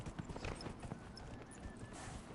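A horse's hooves clip-clop in the video game Dragon Age Inquisition, a quick, steady run of hoofbeats close by over a brief stretch.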